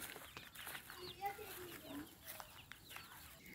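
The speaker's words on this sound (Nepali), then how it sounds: "यो चाहिँ हाम्रो कुखुराहरू भाग्दैछ" Chickens and a rooster cluck softly on a farm among maize plantings, scattered faint calls over a steady outdoor background, with quiet talk nearby.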